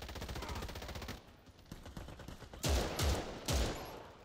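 Rapid automatic gunfire in the online shooter Warface, a dense burst of rattling shots followed by a pause and then three heavy, loud single blasts spaced about half a second apart.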